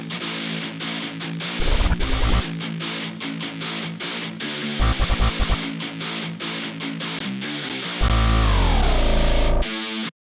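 Drill beat outro built in FL Studio: a guitar line over crisp hi-hats, with a relaxed 808 that thumps in short bursts and then holds a long gliding note near the end, loud and dense, with no voices.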